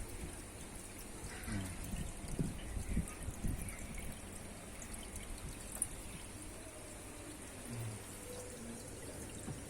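Water flows steadily in an aquarium tank fitted with an overhead filter, a continuous soft trickling and pouring wash that stays fairly quiet and even throughout, with no one speaking.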